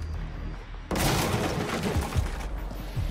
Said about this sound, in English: Barricades can also be destroyed by gunfire.